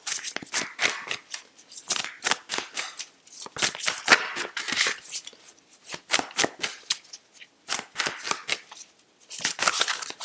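Moonchild Tarot cards riffle-shuffled close up in repeated quick bursts of crisp papery flutters, with short pauses between rounds and no talking.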